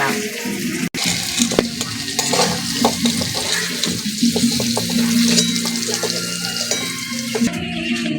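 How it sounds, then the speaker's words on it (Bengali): Ground spice paste hitting hot oil in a pan, a loud continuous sizzle with stirring scrapes and clinks, plus a brief splash of running water. "ওই তেলেতে মশলাটা দিয়ে দিচ্ছি বেটে রাখা মশলা দিয়ে দিল মা"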